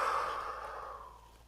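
A slow, soft breath flows out steadily during a gentle morning yoga routine for beginners, close and quiet, fading away over about a second and a half.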